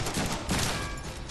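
Rapid gunfire in the Deadpool video game on Xbox One crackles as a dense burst lasting just over a second, heard at moderate loudness with no talking over it.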